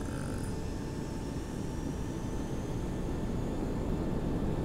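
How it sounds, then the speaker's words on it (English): Boeing 727 engines in X-Plane 11 spool up to takeoff power at night as a steady, loud jet roar with a whining tone that rises slowly. The sound is continuous and holds throughout. "And takeoff power."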